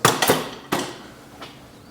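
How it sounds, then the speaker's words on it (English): A flat-bladed screwdriver prises apart the housing of a 62TE transmission from a Chrysler Town & Country, giving two quick sharp metallic knocks, another solid crack, then a fainter tap, close by with no talking. "I take a flat bladed screwdriver and separate the housing just like so."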